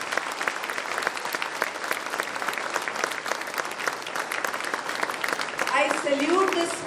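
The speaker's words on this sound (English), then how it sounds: "And I want even a louder round of applause for the teachers of kindergarten." Audience applause at a school event for kindergarten students' colourful Ramayana presentation, steady dense clapping throughout that swells near the end while a voice begins over it.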